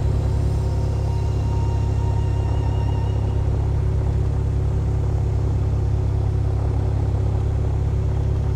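A simulated aircraft engine in Prepar3D runs with a deep, steady low rumble and drone, loud and unbroken from start to finish, with no talking over it.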